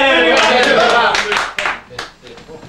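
Hands clap in a sports team huddle, a burst of sharp, close claps in quick irregular succession that thins out toward the end, with voices talking over them.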